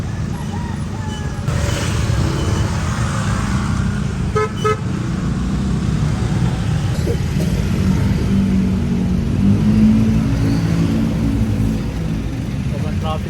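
Busy city road traffic in Quiapo, a continuous rumble of cars passing and accelerating nearby with occasional horn toots, while people talk over it.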